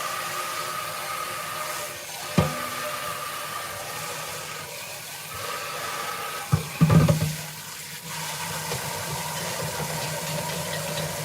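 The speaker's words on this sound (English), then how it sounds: "I'm going to rinse that pot out" Running tap water rinses out a cooking pot at a sink, a steady close rush of flow with a couple of brief clanks of the pot partway through.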